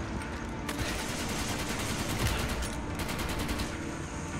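Dense bursts of gunfire in the video game Resident Evil 5, including sniper rifle shots, heard as a steady loud clatter with rapid repeated reports near the end.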